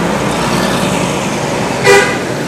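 Dense street traffic in a busy outer Saigon district near a bus station, a steady wash of passing cars, buses and motorbikes, with a short car horn toot standing out near the end.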